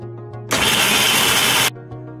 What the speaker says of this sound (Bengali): আমি মিক্সিতে ভালো করে বেটে নেব।